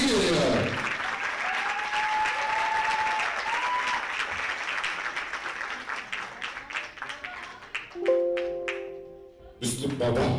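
An audience at a film event bursts into sustained applause to welcome a guest, loud and steady for several seconds before thinning into scattered claps, with voices and some musical tones mixed in.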